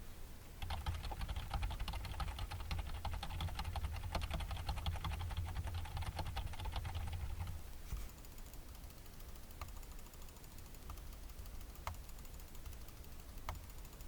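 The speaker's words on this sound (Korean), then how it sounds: "키보드와 마우스 버튼 소리를 어느 정도로 수음하는지 알아보기 위해 눌러보겠습니다" Rapid, steady keyboard typing with dense clacking for several seconds, picked up by a Creative Live! Cam Sync 1080p V2 webcam microphone, then it stops and a few sharp, isolated mouse-button clicks follow in a quieter room.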